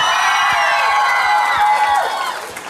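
Karaoke TV show audience cheers and applauds for contestant Bayastan, a continuous loud crowd roar with scattered whoops and claps that thins out toward the end.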